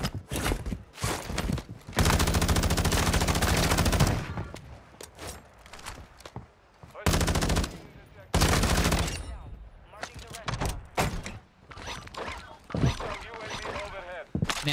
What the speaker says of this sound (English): I think I'm being shot from up here.